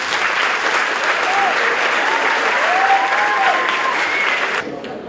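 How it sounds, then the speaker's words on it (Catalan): Loud, dense audience applause at a school graduation ceremony, sustained clapping from a large crowd with a few faint voices, cutting off abruptly near the end. "us demanem a tots un primer aplaudiment ben fort"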